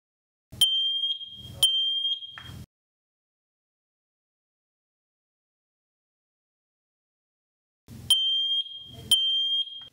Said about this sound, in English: press and hold the control button until each alarm chirps